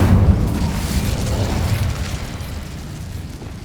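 A fire spell blast in Hogwarts Legacy bursts out as a loud, deep whoosh that rolls away into a long rumbling tail over several seconds, with no talk.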